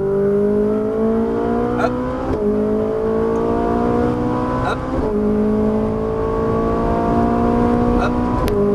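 A Ferrari 458 Italia on the Exotics Racing track in Las Vegas accelerates hard, its engine note climbing steeply and then dropping at each quick upshift, with a couple of short spoken instructions over the loud engine.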